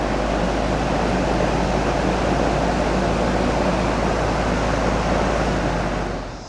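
A 24-inch ECOMAX high velocity drum fan runs at level 3, putting out a loud, steady broadband rush of air with a low hum underneath, constant throughout and tapering only at the very end.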